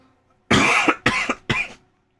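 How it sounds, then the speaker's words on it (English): Three harsh, loud coughs in a row, close by, each a short rough burst separated by brief pauses, followed by silence. "I still have that cough"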